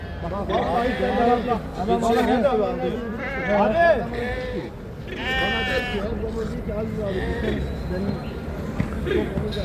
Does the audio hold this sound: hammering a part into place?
no